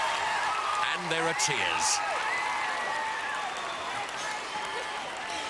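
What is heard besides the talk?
crowd cheering and applauding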